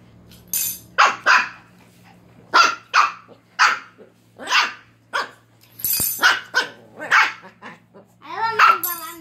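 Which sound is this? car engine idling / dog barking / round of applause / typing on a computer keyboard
dog barking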